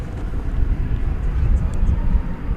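A plane passes at DFW Airport, heard as a broad, steady engine rumble mixed with wind buffeting on the microphone, with a faint voice low underneath.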